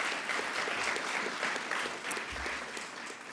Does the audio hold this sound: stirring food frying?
no